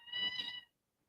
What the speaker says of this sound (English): They're drama kitties. They're just playing around.